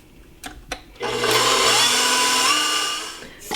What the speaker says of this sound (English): you're going to beat that for 6 minutes on medium speed just to get the sugar nice and dissolved